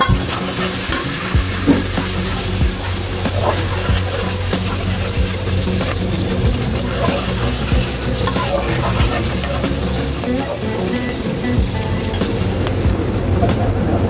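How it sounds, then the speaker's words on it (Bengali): Onion, bay leaf, cinnamon and cardamom fry in hot oil for pulao, giving a loud, steady sizzle with occasional stirring scrapes that runs the whole way through. "তেলে আমি পেঁয়াজ তেজপাতা দারচিনি এলাচ দিয়ে অল্প সময় ভেজে নেব"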